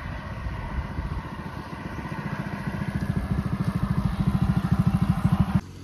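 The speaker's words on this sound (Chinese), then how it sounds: "侧悬挂的摩托车。" A motorcycle with a side-mounted cart on a road in Cambodia, its engine chugging in a rapid, steady putter that grows louder as it draws close, then cuts off sharply.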